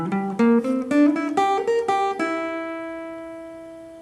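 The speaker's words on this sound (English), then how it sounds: "I'm going to use the ascending version of the C Mixolydian Pentatonic" An electric jazz guitar plays an ascending C Mixolydian pentatonic run, clear single notes stepping upward in an even rhythm before the last note rings out and slowly fades, with no one talking.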